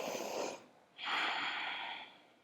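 A person takes a full, deep breath during a beginner vinyasa yoga session, with an audible exhale followed by a long, strong inhale, close and airy in a quiet room.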